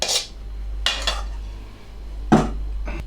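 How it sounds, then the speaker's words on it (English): A utensil spreads mushroom duxelles across a dry, shallow frying pan with no oil, making a few short, distinct scraping and clinking strokes against the metal, separated by quiet pauses. "Just spread it out so it covers as much of the base of the pan as you can."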